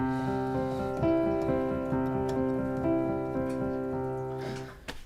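Improvised piano pattern played only on white keys, sustained harmonic notes ringing with steady rhythmic attacks, close and clear with no talking.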